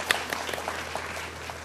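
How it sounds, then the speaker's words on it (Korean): Brief, steady applause from the crowd at a store's opening anniversary ceremony after a singer's performance, a moderate clatter of many hands with a few sharper claps standing out. "다시 한번 큰 박수 부탁드리겠습니다."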